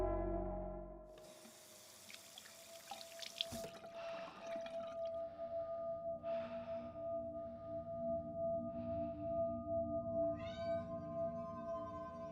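A cat meows a few times, faint and somewhat distant, against background noise that sounds like running or dripping water.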